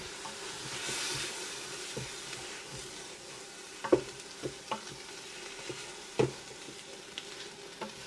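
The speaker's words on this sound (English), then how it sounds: "To this, we're going to go ahead and add the onion. Just give this a stir." Onions and mushrooms browning in a Ninja Foodi, a soft, steady sizzle with a few distinct scrapes and knocks of the stirring utensil against the pot.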